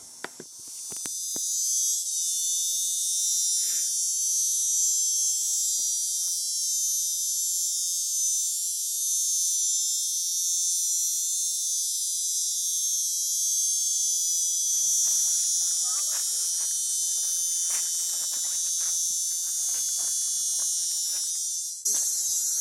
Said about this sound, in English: Also the noise of the cricket is overwhelming.